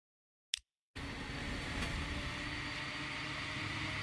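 A train rolls steadily along in the Transport Fever 2 game, a broad, even rumble that starts abruptly after a short click and continues unbroken at low volume with no talking.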